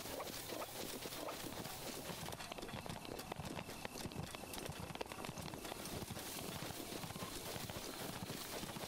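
Horse hooves clip-clop in the video game The Legend of Zelda: Breath of the Wild, a brisk, steady rhythm of hoofbeats over game ambience and music, continuous and fairly prominent throughout.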